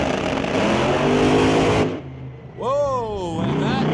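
A drag race car launches at Mission Raceway Park during an outlaw shootout, a loud engine roar that cuts off abruptly, followed by the excited voice of a commentator.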